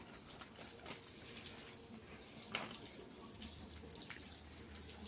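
Water runs and splashes steadily over potted orchids and their leaves during watering, a close, continuous trickle with a faint voice underneath.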